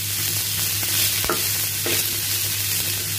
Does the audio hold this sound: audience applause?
no